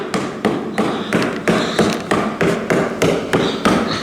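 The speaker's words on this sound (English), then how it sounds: "Where's the tappy hammer?" An old tapping hammer strikes a bent wooden plank on a farm, about eleven sharp, evenly spaced knocks in quick succession, loud and close with no talking.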